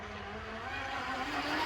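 A 3D printed brushless RC catamaran makes a quick pass on water, a faint, thin motor whine swelling slightly as it approaches from a distance.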